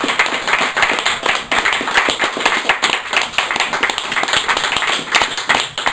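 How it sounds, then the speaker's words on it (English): A pub audience at a poetry open-mic night gives a loud, close round of applause, sharp, dense claps rolling on unbroken. "So, huge round of applause,"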